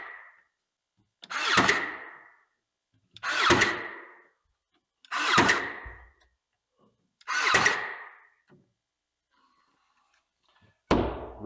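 Four evenly spaced bursts from a pneumatic nailer drive nails into the buildup on a replacement face frame of an upper microwave cabinet, each a sharp hissing shot, with one more shot at the end.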